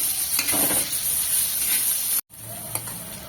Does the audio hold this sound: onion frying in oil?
yes